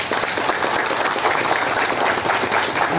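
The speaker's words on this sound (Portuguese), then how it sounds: "Uma salva de palmas" An audience applauds at the inauguration of an INSS building in Barreirinha, a continuous, even wash of clapping hands at steady volume throughout.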